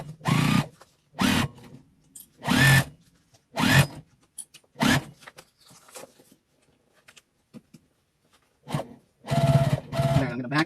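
Sewing machine back stitching and restarting a seam on a Christmas car trash bag, heard as several short, loud, buzzing bursts of stitching separated by pauses, with fainter handling noises between.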